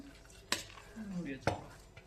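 Spoon stirring sambar rice in a cooking pot, with two sharp metallic scrapes against the pot and soft mixing sounds between them, near and moderately loud.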